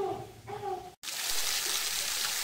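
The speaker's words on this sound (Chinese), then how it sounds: "在这里听水声哗啦哗啦。" Water from the Yinhe Cave waterfall near Maokong in Taipei's Muzha area rushes down a cliff face in a steady, loud, close hiss, after a brief moment of a voice and a short gap.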